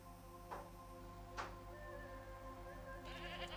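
Faint bleating from two goats in the nature video game Preserve, two short calls over a steady electronic background hum, quiet and distant-sounding.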